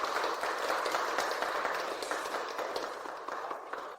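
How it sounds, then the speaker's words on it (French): Applause at a celebration banquet, a dense continuous patter of many hands clapping at moderate distance and fairly quiet, slowly easing toward the end. "Ensuite, applaudissons chaleureusement Sally."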